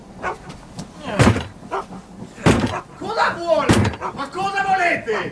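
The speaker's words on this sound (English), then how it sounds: "Constable, force the door." Police force a door open with several heavy thuds and bangs spaced about a second apart, loud and close. Voices talk and shout between the blows, and a dog barks.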